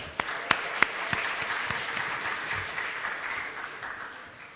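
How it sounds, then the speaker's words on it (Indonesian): Audience applause for the university rector at a Kominfo roadshow event hosted by UNIKOM, a dense round of clapping from a large crowd with a few sharp close claps at the start, fading slightly toward the end. "Kita harus memberikan aplaus kepada Bapak Rektor."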